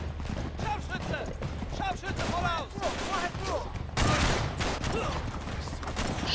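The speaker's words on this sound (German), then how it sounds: "Jetzt schießen wir auf den Gaul." Rapid bursts of gunfire aimed at a horse in Uncharted 3, loud clustered shots and rattling volleys with a heavy blast partway through, over game noise with someone talking across it.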